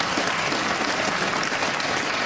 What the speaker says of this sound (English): clap if you think you're going to heaven.